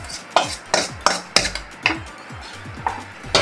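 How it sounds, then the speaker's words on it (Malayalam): Rice halwa of leftover rice, rice flour and milk being stirred in a pan, with rhythmic clacks and scrapes of a spoon against the pan about every third of a second, close and fairly loud. "നമ്മളത് കുറുക്കിയ പോലെ ആക്കണതിൽ നല്ലോണം ഇളക്കണം."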